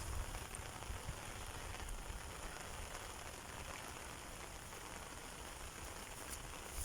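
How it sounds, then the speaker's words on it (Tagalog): Steady rain falling during a typhoon, a constant soft hiss with dense patter, even and close throughout with no talking. "umuulan"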